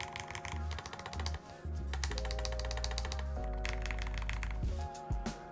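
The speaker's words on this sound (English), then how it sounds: "let's take a little typing test" Typing on a Vero75 wireless mechanical keyboard makes a quick run of dense clacking keystrokes, sitting under loud, sustained background music.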